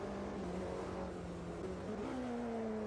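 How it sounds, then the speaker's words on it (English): Race car engine in Automobilista 2 holding a steady droning pitch, then a quick drop and jump in tone near the end as a gear upshift lands, with the engine note continuing loud and close afterward. "the upshift happened twice"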